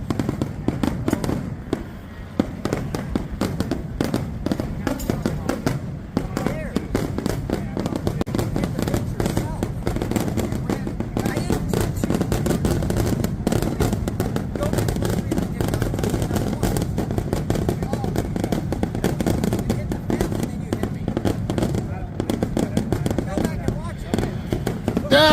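Fireworks going off during a live show, a dense, continuous crackle of bursts and pops that persists throughout, with voices talking and commentary underneath.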